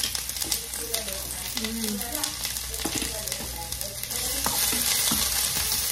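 Minced garlic frying in a pan, a steady close hiss and crackle of hot oil throughout, with occasional clinks of stirring and a faint voice in the background.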